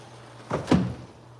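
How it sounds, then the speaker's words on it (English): A brief pair of low thuds and a soft scrape as doors swing open nearby, then quiet. "I'm opening these doors right now because this is a big part of the home."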